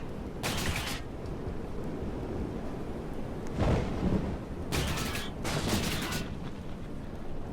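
Several short bursts of rapid gunfire crackle against a steady background hum, with a deeper boom in the middle, sounding like game combat.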